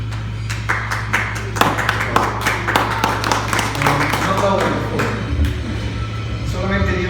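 Audience clapping at a Christian church conference in Spanish, a steady mass of overlapping hand claps under a low hum, continuing for several seconds with a few voices mixed in.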